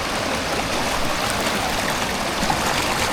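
Fast-flowing river water rushes steadily and loudly throughout, a dense continuous roar of current with no voices, heard close by at a riverbank.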